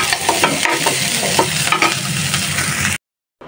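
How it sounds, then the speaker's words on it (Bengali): A dal tempering of cumin, chopped garlic and onion sizzles hot in oil, a dense, loud frying hiss with scattered spoon scrapes and clinks, close up, then cutting off abruptly into silence. "সামান্য একটু জিরা দিই, আর দিব হলো রসুন কুচি আর পেঁয়াজ কুচি দিয়ে ডালটা ফোড়ন দিয়ে দিব"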